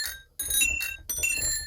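Bicycle bell ringing in repeated bright metallic bursts, roughly three clusters of rings with short gaps between, close and clear with no voices.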